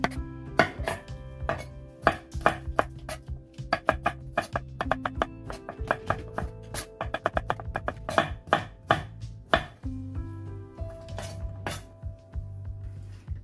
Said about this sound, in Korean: 청양고추 한두 개를 송송 썰어줍니다.